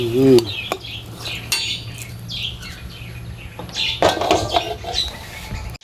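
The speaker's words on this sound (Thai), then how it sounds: "ใส่จานนะครับ" Stir-fried minced pork with holy basil scraped from a pan onto a plate: clinks and scrapes of a metal utensil against cookware, with birds chirping in the background and a brief voice at the start.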